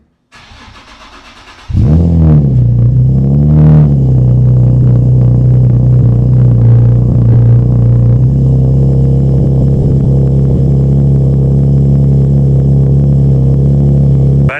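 A turbocharged Nissan 370Z cold-starts, cranking and firing up, revs briefly, then settles into a loud, steady idle rumble close by.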